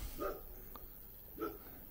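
A large dog barks twice in the distance, two short muffled woofs about a second apart, over faint background hiss.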